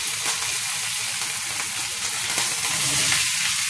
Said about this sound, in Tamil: கொண்டக்கடலை கொஞ்சம் கடுகு தாளித்து